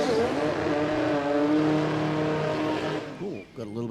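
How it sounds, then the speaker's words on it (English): A sport compact drag car, a Mazda, roars loudly through a burnout at a drag strip, its engine note sustained and close, with a commentator talking over it before the sound breaks off near the end. "Got a little bit loose out of the burnout, did Pat, but that's okay."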